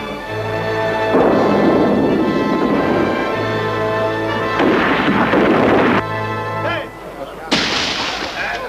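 Pirate ship cannons firing at sea: several heavy booming blasts spaced a few seconds apart, loud and close, over a dramatic musical score with raised voices in the mix.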